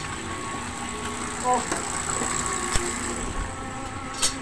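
A concrete mixer engine runs while it mixes cement, water and sand for hollow blocks, a steady close idling drone with faint vibration and occasional clanks, while a person speaks briefly over it.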